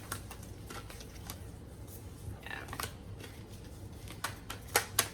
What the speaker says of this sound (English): cards for them, just a couple shuffles.